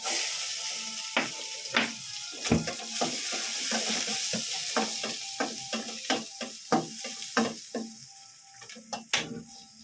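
Onions sauté in butter in a pan for chicken salpicao, a soft sizzle under quick, irregular scrapes and taps of a spatula stirring, close and fairly quiet.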